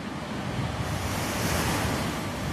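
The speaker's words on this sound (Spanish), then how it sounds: "Nunca unos ojos vieron una mar tan alta, tan terrible y llena de espuma" Hurricane wind and towering, foam-covered waves at sea, a dense continuous roar of surf and gusting wind that stays loud and unbroken throughout, with no voices.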